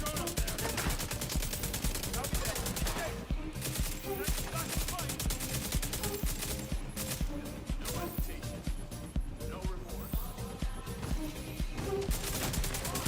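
Sustained light machine gun fire in The Division 2 from a Stoner LMG build, a dense, unbroken stream of rapid shots at steady loudness lasting over ten seconds, with speech probably mixed in.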